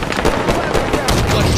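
A shotgun blast in Halo 5 Warzone Assault gameplay: loud, dense bursts of gunfire and booms overlapping in quick succession, forming a constant noisy barrage of combat sound.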